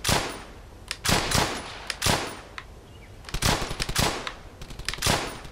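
Rapid bursts of WWII-era gunfire in Brothers in Arms: Hell's Highway, loud sharp shots in irregular clusters with brief gaps between volleys, no talk.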